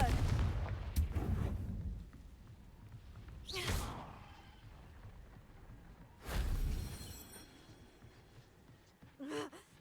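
In the Hogwarts Legacy video game, the Confringo fire spell is cast with sharp blasting bursts. Several loud explosive impacts come at intervals amid faint background effects.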